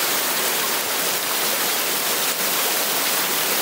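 Small warm waterfall at Casuarina Falls on the Berkeley River in the Kimberley, a steady loud close rush of falling water with no talk.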